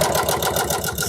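An upholstery sewing machine stitching fabric for an SUV bench seat, a fast, steady mechanical clatter running continuously and close with no talk.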